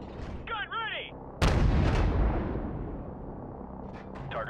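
In Call of Duty 4: Modern Warfare Remastered, a single heavy gun blast booms out and decays into a long rumble, with short shouted callouts before and after.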